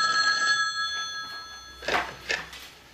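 Telephone bell ringing for a long-distance call, a steady electronic ring tone held over the first two seconds, then a couple of brief sharper bursts, close and moderately loud.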